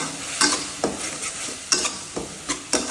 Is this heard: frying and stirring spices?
yes